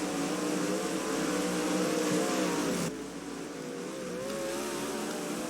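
Sprint car engines drone around Tri-City Raceway in the NASCAR Racing 2003 game, a dense continuous roar with wavering pitch that drops in level partway through and then holds steady.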